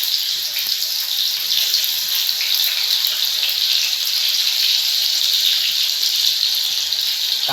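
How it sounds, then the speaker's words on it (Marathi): Chopped onion sizzling in very hot oil for a village-style chicken curry, a steady, loud, continuous hiss of frying that holds evenly throughout with no talking. "तर सर्वात आधी आपण कांदा टाकून घेऊ."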